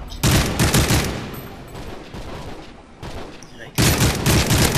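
Rapid bursts of gunfire from Modern Warfare 3, loud and dense throughout with a brief lull midway, a voice talking over the shooting.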